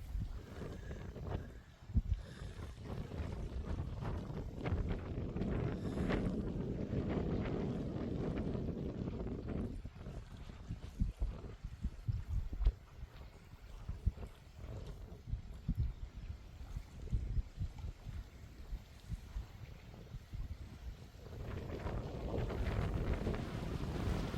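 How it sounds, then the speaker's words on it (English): Wind gusts across the microphone on a coastal clifftop walk near Old Harry Rocks, a low, rough rumble that swells and drops, with faint surf underneath. "gotta be careful not to lose me hat, the wind's blowing. Picking up quite a bit."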